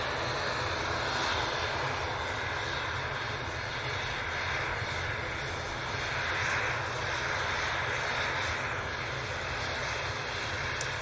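A propeller airplane bound for Aberdeen at Manchester Airport drones loudly and steadily, its engine roar filling the whole stretch without a break and with no talking.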